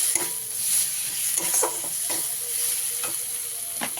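Spice paste with salt and a spoonful of turmeric fries in oil for a sea fish curry, a steady close sizzle broken by repeated scraping strokes of a spoon stirring the pan.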